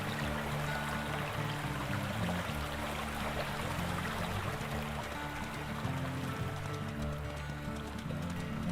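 In the Ironwolf hunting game, a creek's water rushes loudly and evenly, a dense continuous flow over a low humming bed, with no voices.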